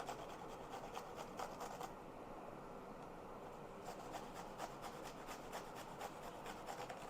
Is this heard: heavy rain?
no